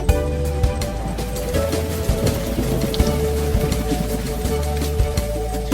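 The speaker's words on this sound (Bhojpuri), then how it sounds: "टप टप टप टप बारिश आइल।" Constant rainfall drumming on a surface, a thick, unbroken patter with scattered louder drips, and no one speaking.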